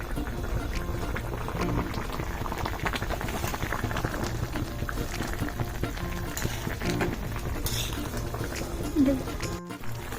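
Pangas fish curry stirred in a pan while it simmers, a continuous bubbling, sizzling wash with soft scraping and clatter from the spoon, close and steady throughout, no voice.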